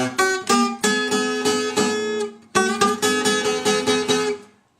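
Acoustic Delta blues guitar lead-in from a song: two bursts of quick, rhythmic plucked notes with a brief gap between them, close and alone, ending in a fading ring.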